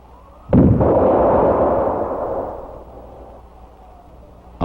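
A hunting rifle fires a single sharp, loud shot while its scope is sighted in, followed by a long rumbling echo that fades over several seconds in open country.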